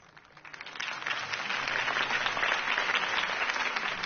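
Crowd applause swelling after a campaign speech by Harvey Dent in a Batman video game, a dense, steady wash of many hands clapping that builds from a quieter start and holds loud throughout.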